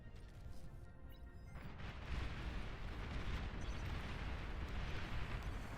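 A commander unit blowing up in the real-time strategy game Beyond All Reason, a deep rumbling explosion that swells and keeps roaring at full strength, heavy and sustained, after a quieter opening.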